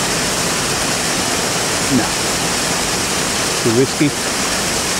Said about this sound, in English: That water there falling in the top.